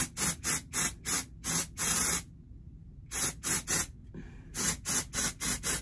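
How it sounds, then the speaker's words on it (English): Rapid bursts of glitter aerosol spray hiss onto hair in quick short pulses, a pause, then more bursts in a steady rhythm, close by. "We're gonna spray glitter too."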